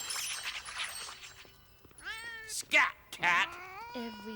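A cartoon cat meows and yowls several times in a children's animated show, short pitched cries rising and bending after a quieter stretch of background sound, fairly loud and close.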